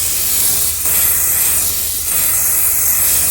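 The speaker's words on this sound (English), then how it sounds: "Now we're going to give that first layer a really good spray." Hairspray from an aerosol can misted over a soft pastel drawing, a loud steady hiss in three long bursts separated by brief pauses, close to the ear.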